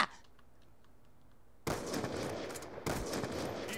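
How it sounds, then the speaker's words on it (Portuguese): Automatic sniper rifle fire in a SpongeBob video game: two loud, dense bursts of rapid shots, the first cutting in midway after a quiet stretch and the second following about a second later. "Para com essa sniper automática"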